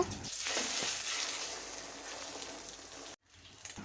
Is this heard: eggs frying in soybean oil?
yes